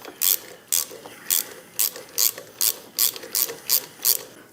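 A ratchet turns a 3/16 socket on the bolt of a Ciro drink holder, giving about ten sharp, evenly spaced clicks, close and alone.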